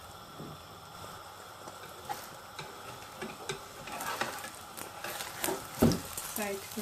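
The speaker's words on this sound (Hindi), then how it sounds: "अब इसमें 4 फेंटे हुए अंडे जो हैं वो मैं ऐड करूँगी।" Four beaten eggs cooking in a pan for egg fried rice, with a gentle sizzle and light tapping and scraping from a utensil, building toward the end, while someone talks.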